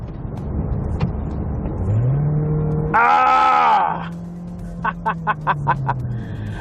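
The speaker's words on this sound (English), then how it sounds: "on sport mode, if I decide to just floor it" Mazda CX-30 with the 2-litre Skyactiv-G petrol engine floored in sport mode, a close, loud engine drone climbing steadily in pitch as it accelerates, with a brief whining surge and a few short rhythmic bursts near the end.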